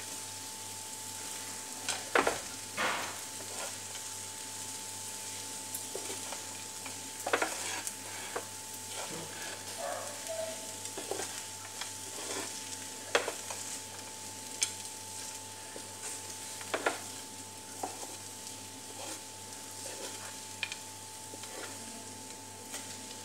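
Sabudana khichdi, soaked sago pearls, frying in a pan and being stirred, a steady soft sizzle with scattered scraping spatula strokes, close and fairly quiet, with no talking.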